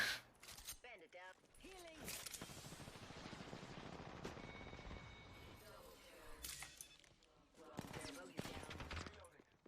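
Gunfire in the video game Apex Legends, bursts of automatic shots crackling through the middle of the stretch with sharp reports near the end, mixed with a voice talking over the action.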